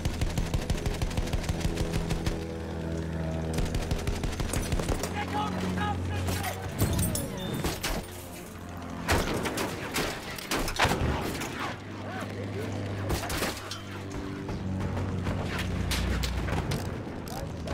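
Machine gun fire aimed at a bomber in the World War I video game Battlefield 1: rapid, steady bursts with heavy booms and explosions mixed in, loud and continuous, with voices heard over the shooting.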